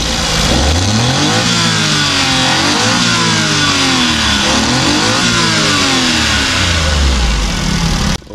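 A Suzuki DA64W's VVT engine with a timing chain revs up and down repeatedly, rising and falling in pitch through several swells, loud and close, with no talk.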